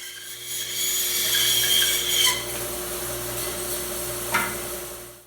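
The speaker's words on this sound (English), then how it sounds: "I'm also going to be cutting the headstock so it's a tad bit thicker than the headstock needs to be" Hand sawing through the wooden headstock of a seven-string, multiscale, fanned-fret guitar neck at a luthier's bench, steady rasping strokes close up, with a clear stroke near the end.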